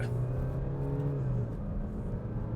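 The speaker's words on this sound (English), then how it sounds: "this is 0 to 100 in the F-Pace. 3, 2, 1, go" A Jaguar F-Pace accelerates hard from a standstill in a 0 to 100 run, its engine note droning steadily and rising from inside the cabin, loud and continuous without talk.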